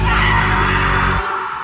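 Screaming in the Twisted Metal video game, a loud sustained yell that holds strongly for over a second and then cuts off abruptly into a fading tail.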